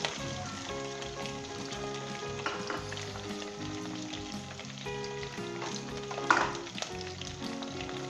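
Finely chopped fresh red chillies frying in a pan, a continuous close sizzle with crackle and brief stirring scrapes, rising for a moment near the end.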